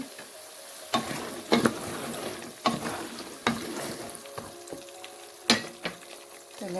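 Naga chillies going into garlic frying in oil for a chilli pickle, a soft continuous sizzle broken by several sharp bursts and clatters of stirring in the pan.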